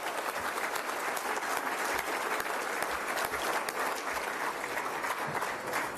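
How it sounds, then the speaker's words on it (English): A crowd at a Junior Achievement Brevard Business Hall of Fame evening gives a steady, even round of applause, heard from some distance and continuing without a break. "How about we give her a well-deserved round of applause?"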